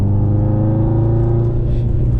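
A turbocharged Subaru Outback XT wagon pulls hard under load, its engine droning loud and steady from close by with a low, rising rumble and constant road roar.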